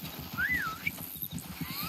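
Horses in the video game Red Dead Redemption 2, with soft, rhythmic hoof clops and a short whinny rising early on, at moderate distance beneath game ambience.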